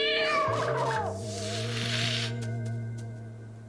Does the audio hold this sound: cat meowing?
yes